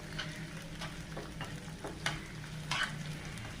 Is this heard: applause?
no